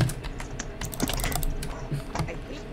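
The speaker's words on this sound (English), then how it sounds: "your keyboard clicky sounds will help you" Rapid clicky keyboard typing, close and steady, with irregular bursts of keystrokes throughout.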